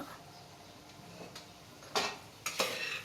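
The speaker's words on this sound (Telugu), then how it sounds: "చూడండి దాంట్లో అది మిక్స్ చేసుకుంటున్నాము" Cabbage and boiled lentils being stirred and mixed in a pan while drying out for a fry, with soft scraping under a low background and two louder clattering scrapes near the end.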